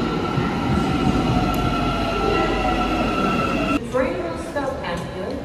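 A metro train rumbles loudly through an Istanbul station, its wheels and brakes sending up high squealing whines and shifting tones as it moves close by.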